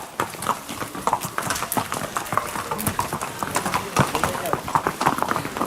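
Horse hooves clip-clop on brick paving laid across a steep descent to stop the horses slipping, a steady run of close, sharp strikes under continuous talking and street noise.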